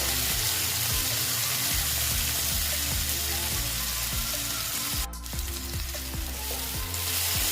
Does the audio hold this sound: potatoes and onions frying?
yes